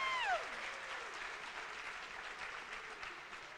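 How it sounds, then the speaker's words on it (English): Applause for the graduating class at a military academy graduation ceremony, a broad, fairly distant wash of clapping from a seated audience that holds steady after a brief cheer at the start. "Give yourselves one more round of applause."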